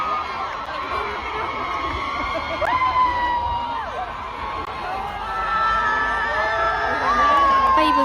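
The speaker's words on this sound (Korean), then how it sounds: "새벽부터 기다린 전 세계 팬들은 RM과 B가 나타나자 함성을 지르면서 환호했습니다" Crowds of fans outside the HYBE building in Yongsan scream and cheer for BTS members RM and V on their discharge from military service, a sustained roar of shrill whoops and yells that swells in waves.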